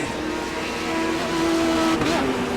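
Race cars circling a dirt-track oval during a 40-lap feature race, a sustained engine drone at moderate distance with one car's pitch rising and shifting as it passes.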